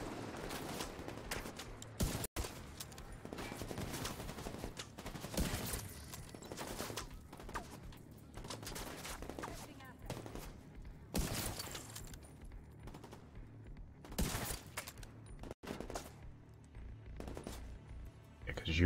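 Scattered bursts of gunfire crack through a firefight in the video game The Division 2, fairly quiet and irregular, with a player's voice talking over the shooting.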